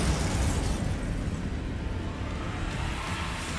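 A Bombarda blasting spell goes off in Hogwarts Legacy as a loud, close burst followed by a heavy rumbling roar that slowly fades, with no talking.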